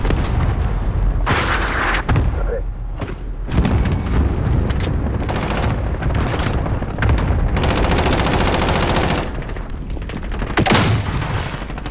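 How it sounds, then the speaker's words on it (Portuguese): An enemy cluster strike in Call of Duty: Modern Warfare booms with heavy explosions amid constant automatic gunfire, loud and dense throughout with repeated blasts and rattling bursts layered together. "Ataque de dispersão inimigo iminente."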